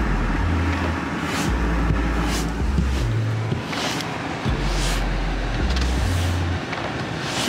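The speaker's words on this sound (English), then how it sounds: "So just warming up the car." A car engine idles while warming up, a low steady rumble heard from inside with soft shifting hum and faint whooshing passes over it, no talk.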